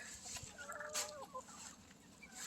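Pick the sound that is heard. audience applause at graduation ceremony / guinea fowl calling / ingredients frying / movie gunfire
guinea fowl calling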